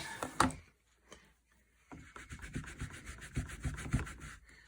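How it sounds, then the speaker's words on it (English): A rubber stamp being rubbed across a Stampin' Scrub pad, with a sharp scrubbing stroke, a brief pause, then a run of quieter repeated rubbing passes close by. "I've got my Stampin' Scrub here. I'm just going to give it a quick little rub"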